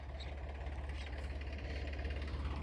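A modified Mahindra tractor engine runs continuously on a farm field, a dense, even rumble with rapid low knocking, moderately distant and steady throughout.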